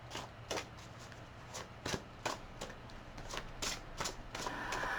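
Tarot cards are shuffled close by in quick crisp riffling bursts, repeated irregularly over a quiet background hum.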